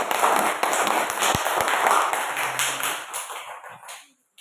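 Classroom applause for a student discussion group, a dense wash of many hands clapping steadily and fairly loud, thinning out and stopping near the end.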